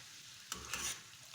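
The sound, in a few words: onions sautéing in a pan until golden brown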